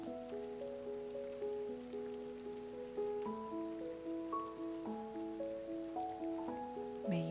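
Steady rain falls on a surface on a rainy day, a soft continuous patter running the whole time beneath gentle melodic tones that step from note to note.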